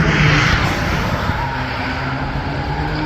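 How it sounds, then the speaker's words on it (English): A black Jaguar F-Type R sports car blasts away from the start line at the Goodwood Festival of Speed, a loud, broad engine roar that fills the whole moment and holds steady without fading. "Looking here at the black Jaguar F-Type blasting away from the line, and this Andrew Mould in the F-Type R"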